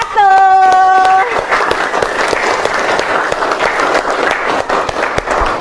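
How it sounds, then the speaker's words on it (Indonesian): Classroom applause from junior high school students for student group 1, a loud burst of clapping after a short tonal sound, with children's voices mixed in. "Tepuk tangan untuk kelompok 1"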